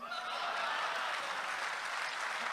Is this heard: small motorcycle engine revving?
no